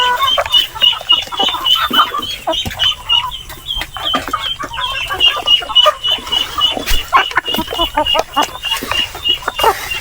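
Native chickens on a farm cluck and squawk busily and continuously, many birds close by with overlapping irregular calls throughout.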